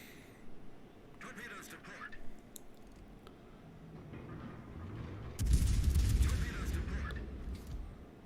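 Heavy naval gun salvo from the battleship Goliath in World of Warships, a deep booming burst midway that rumbles on for a couple of seconds over a low background of battle noise.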